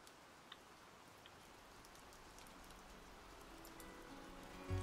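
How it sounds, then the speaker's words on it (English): Rain falls in the video game Minecraft as a soft, steady hiss with faint scattered drops, quiet and constant throughout. "oh, it's raining."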